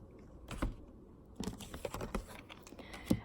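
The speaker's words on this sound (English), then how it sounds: "Just gonna take out 3 cards, okay?" Several cards are pulled from a deck: soft papery slides and taps come in a few short bursts, close and fairly quiet, with brief pauses in between.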